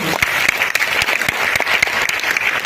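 An audience at a marketing talk breaks into brisk, dense applause, a steady wash of clapping with a few sharper individual claps standing out, loud and close throughout.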